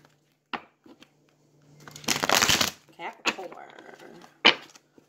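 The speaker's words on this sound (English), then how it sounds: "I'm going to shuffle one more time, okay, y'all?" Tarot cards are shuffled by hand in a few crisp bursts, one longer riffle in the middle flanked by short flicks and taps, close and fairly quiet, with a voice heard briefly now and then.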